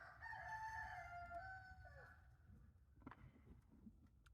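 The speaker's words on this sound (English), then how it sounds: "You hear the roosters in the background," A rooster on a Tennessee homestead crows one drawn-out call that trails off, faint and distant, over outdoor background rumble.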